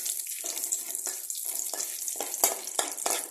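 Torn bay leaves and dried red chillies crackle and hiss in hot oil, stirred in a pan with bursts of sizzling that swell and fade in short repeated surges, close up with no voices.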